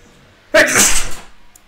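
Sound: sneeze

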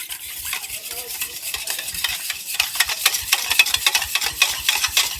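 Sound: hand whisk mixing milk and oil in a bowl

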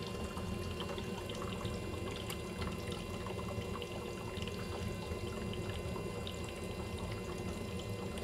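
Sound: boiler bubbling

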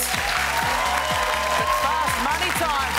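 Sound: game show audience applause

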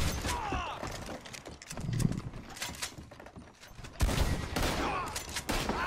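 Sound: gunfire in the video game Red Dead Redemption 2 Online

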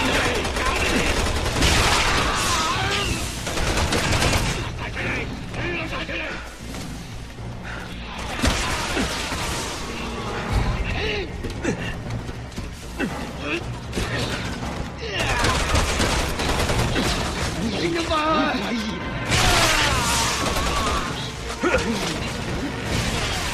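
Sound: gunfire in Resident Evil 6 video game

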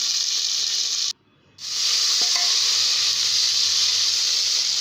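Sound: green chili and onion sautéing in a pan for upma

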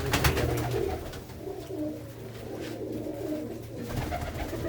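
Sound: pigeons cooing in the loft

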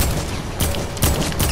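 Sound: pump shotgun firing in Fortnite, a video game

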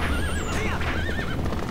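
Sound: horse neighing in the video game Zelda: Twilight Princess

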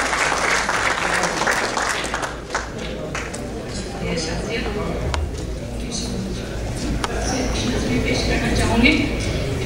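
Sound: audience applause welcoming poet Dr. Shamsa Qureshi

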